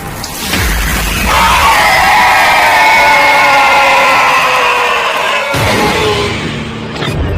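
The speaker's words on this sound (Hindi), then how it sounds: "वो चीख बंद हुई" A long, loud, wavering scream in a horror story rises and sustains for several seconds with harsh tonal bands, then cuts off abruptly near the end, followed by a brief burst of noise.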